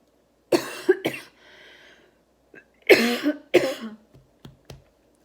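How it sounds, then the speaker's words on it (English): Several dry coughs in two clusters with short pauses, close and fairly loud, followed by a few softer throat noises. "I always have a dry cough, okay?"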